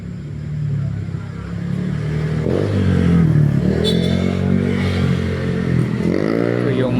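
Motorized tricycles pass along a street in Passi near a hotel and restaurant, their small engines droning and revving steadily, growing louder toward the middle and staying close throughout, with traffic clatter mixed in.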